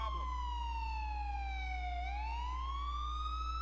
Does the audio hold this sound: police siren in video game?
yes